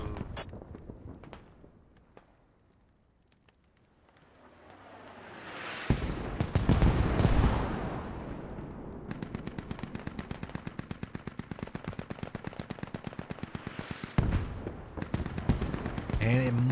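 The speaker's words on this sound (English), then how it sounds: "Another mortar barrage." Mortar barrage explosions in the video game Squad, set in Afghan mountains with insurgents fighting British forces: loud bursts and rumbling blasts mixed with rapid machine-gun fire, a long rattling stream of shots through the middle.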